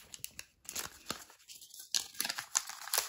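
Crisp paper tearing and crinkling as a paper budget envelope is opened, in several quick rips and rustles close by, with no talk.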